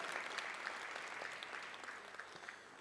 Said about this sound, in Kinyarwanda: umuha amashyi menshi cyane